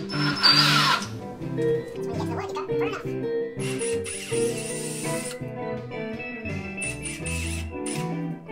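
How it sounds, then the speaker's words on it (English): A power drill bores through a plastic robot cover for an NVIDIA Jetson TK1 and iRobot Create 2 build, its motor whining in sustained bursts up close with brief pauses between. "Let's drill full size"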